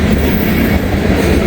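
A train rolls past on the tracks on a chilly, cloudy day, a steady close rumble of wheels and cars with a continuous broadband roar and no break.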